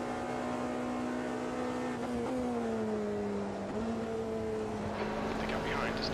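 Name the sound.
LMP2 race car engines from the Automobilista 2 video game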